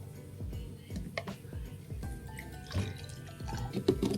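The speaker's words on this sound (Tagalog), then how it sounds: "Tapos ilagyan natin ng water." Water trickles into a baby bottle in small, evenly spaced drips and splashes, a soft repeating patter at close range with faint background noise.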